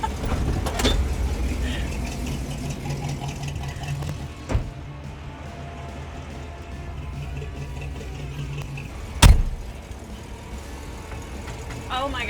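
A Chevy C20 tool truck drives along with a steady low engine drone and road rumble, broken by a couple of sharp knocks, while a voice speaks over it.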